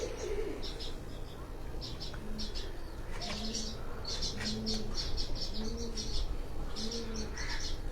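Pigeons on a rooftop loft in Jalalpur Bhattian give repeated low coos alongside bursts of chirping and occasional wing flutters, close by over steady ambient noise.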